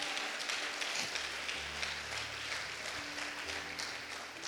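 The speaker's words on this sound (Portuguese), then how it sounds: "pode aplaudir o Senhor" A church congregation applauds in a steady, dense wash of clapping that fills the whole stretch, with a low sustained tone and faint murmuring underneath.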